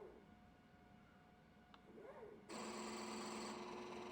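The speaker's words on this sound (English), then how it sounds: "Make sure you can hear the burrs touching and visually see the shaft moving." A Mastrena II espresso machine grinder runs empty during a grinder test, its burrs touching. A steady, loud mechanical whine with a buzzing tone starts abruptly and holds, after a quieter hum.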